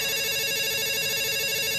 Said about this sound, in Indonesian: Ada suara telepon masuk para dokter